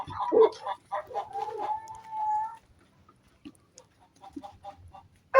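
Day-old chicks in an electrically heated, enclosed brooding cage for native chickens give high, thin peeps and chirps, a cluster of calls close by followed by a quieter stretch of scattered faint cheeps.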